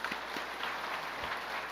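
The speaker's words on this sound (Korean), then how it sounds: "헌신하는데 박수 한번 하시죠." Church congregation applauding the choir during a sermon; a steady, even roar of many hands clapping at moderate distance, with no talk over it.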